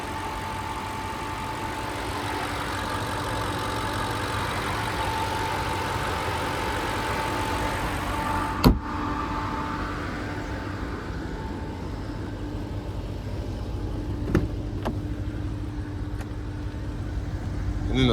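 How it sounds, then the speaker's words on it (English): The twin turbo V8 of a 2019 Cadillac CT6-V Blackwing idles steadily with a low, even hum and a faint whine, heard near and alone with a few sharp clicks partway through. "there's that beautiful twin turbo V8."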